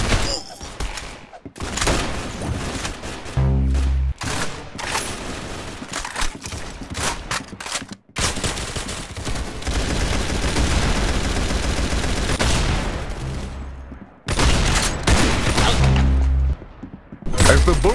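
Gunfire in the video game Arsenal: dense bursts of shots, including automatic fire, sound loud and close, with a few brief gaps between volleys and the shooting resuming toward the end.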